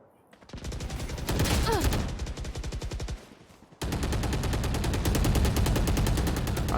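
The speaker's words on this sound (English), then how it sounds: "He's got some gunfire exchanging in mid right now." Rapid bursts of video game gunfire crackle loudly and continuously during a college esports match, with a brief lull before the shooting resumes at full intensity.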